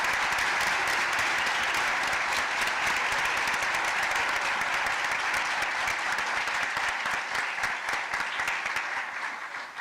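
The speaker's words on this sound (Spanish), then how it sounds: "yo sí pido un aplauso para ellos" An audience at a book presentation breaks into continuous applause, a thick, close wall of clapping that stays loud for most of its length and begins to thin slightly toward the end.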